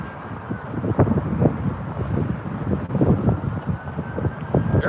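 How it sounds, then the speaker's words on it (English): Strong gusts buffet the microphone outdoors, producing continuous loud rumbling and bursts of rough noise that rise and fall, with no talking. "very windy."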